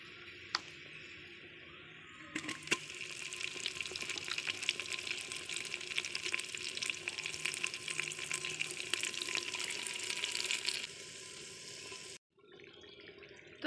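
Marinated mutton for a handi mutton korma goes into a hot pot and sizzles loudly. A sharp clatter opens the frying, and a dense crackle follows for about eight seconds before it drops away into quieter simmering.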